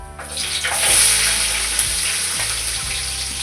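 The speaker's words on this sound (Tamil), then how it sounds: "நல்லா மசாலா போட்டுக்கணும். நல்லா பொரிஞ்சிடுது. இப்போ வெங்காயம் போட்டுக்கலாம்." Spices and onions fry in hot oil for a prawn dum biryani, making a loud, even, hissing sizzle that holds steady throughout beneath a faint low hum, with no talking.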